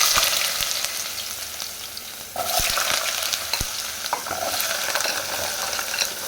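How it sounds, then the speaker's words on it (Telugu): Mustard seeds and potatoes fry in hot oil with a loud, continuous hiss and crackle close by, marked by occasional sharp taps and stirring knocks against the pan. "ఆయిల్ హీట్ అయింది ఆవాలు వేసుకోవాలి ఆవాలు వేగుతున్నాయి"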